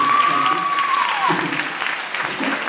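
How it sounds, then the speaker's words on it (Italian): Audience applause at a carnival party, a steady crowd of clapping that stays loud and continuous throughout, with a voice speaking over the start and a brief high whistle-like tone early on. "e facciamo un applauso"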